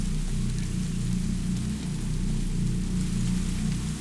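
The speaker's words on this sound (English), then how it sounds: "The rain mellowed down" Steady rain falls in an animated sci-fi short film, an even, continuous hiss with a low rumbling bed and no distinct drops standing out.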